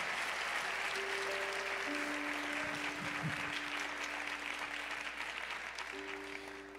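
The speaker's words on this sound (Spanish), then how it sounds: "déles aplauso a Jesús, Rey de toda la tierra." Applause from a church congregation during a sermon, a steady roar of clapping with sustained organ or keyboard tones underneath, tapering off slightly at the end.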